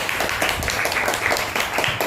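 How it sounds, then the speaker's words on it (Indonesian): Students in a classroom clap for a classmate during a lesson, a brief burst of dense, steady hand claps from a small group nearby, filling the whole moment without pause. "Beri tepuk tangan teman kalian."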